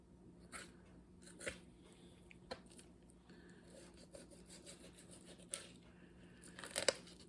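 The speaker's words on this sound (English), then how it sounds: "Cut through that skin." Raw chicken skin being sliced with a knife while a whole bird is broken down, heard as soft, scattered rubbing and tearing strokes, quiet and close, with a brief louder rip near the end.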